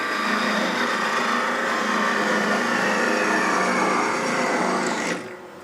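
A wood lathe parts off a small wooden bug pull toy piece, giving a loud, steady high whine with a rising scraping tone that stops abruptly just before the end.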